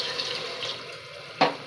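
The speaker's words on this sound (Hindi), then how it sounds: "मैं अब इसमें 1 गिलास पानी डाल दूंगी ताकि हमारे आलू जो हैं वो गल जाएं" A glass of water pours into a pan of potato keema, a short, close, splashing stream ending in a sharp louder splash.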